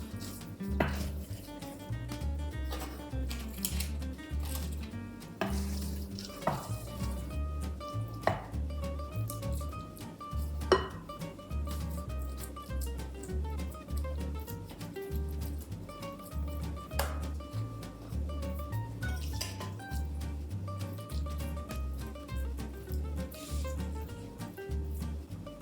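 A vegan lentil loaf mixture is pressed and scooped into a loaf pan, giving soft repeated thuds and scrapes of utensil against the pan over a low steady background, close and moderately quiet, with occasional sharper clinks.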